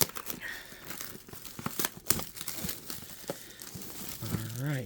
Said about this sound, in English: Tear this up.